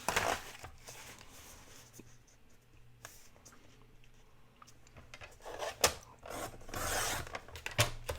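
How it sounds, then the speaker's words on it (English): Paper or cardstock of a multi-pocket expandable pouch being trimmed along its score line, a soft rasping scrape of a blade running through the sheet, steady and close with brief louder strokes toward the end. "So I try to trim right in that score line, just like that."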